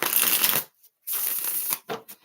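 Tarot cards are shuffled in two quick riffling bursts, crisp close papery flutters separated by a brief silence, with a short tap at the end.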